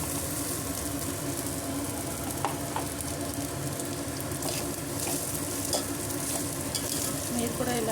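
Rice and onions stir-fried together for fried rice in a pan, a dense continuous sizzle with scraping stirs and small clinks, loud and close throughout.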